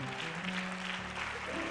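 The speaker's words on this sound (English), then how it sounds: "don't y'all clap for us" An audience at a live spoken-word performance applauds with steady, fairly faint clapping over sustained musical tones.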